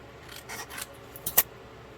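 Scissors snip through paper for a Christmas mini album, a few short, crisp cuts close up, with the last and sharpest near the end, in an otherwise quiet room.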